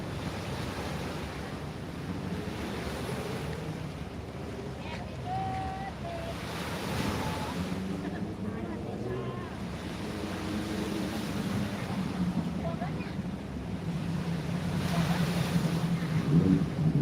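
Ocean waves at Jomtien Beach roll and wash in a steady, broad surf with wind buffeting the microphone, and faint boat or background noises sit under the rumble.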